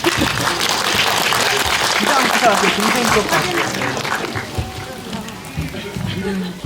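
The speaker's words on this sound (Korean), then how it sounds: "여러분들 많은 박수 부탁드리겠습니다" Cinema audience applauding during a stage greeting by actors and a director at a Hongdae CGV screening of a Korean film, steady dense clapping that fills the room, with voices mixed in underneath.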